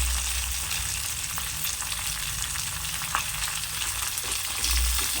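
Onions, chillies, curry leaves and coriander fry in hot oil in a pan, a continuous close sizzle with faint stirring sounds and no talking.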